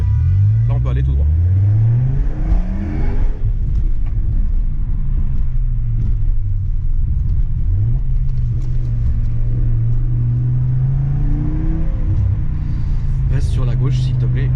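An Audi RS6 with a 730 hp V10 engine revs hard from inside the cabin, its deep rumble climbing and dropping through repeated gear changes, with people talking over the loud engine.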